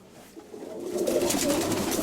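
A hen racing pigeon gives soft, low cooing that swells after a quiet start and carries on steadily, close by, with no talk over it.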